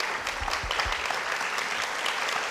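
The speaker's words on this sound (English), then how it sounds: "Please, a big round of applause to our young people." An awards ceremony audience for children's literature gives full, steady applause, a dense wash of many hands clapping at once, with a few low thumps early on.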